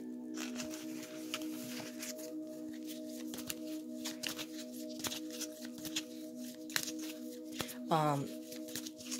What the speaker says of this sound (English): I'm just going to shuffle the Archangel cards as well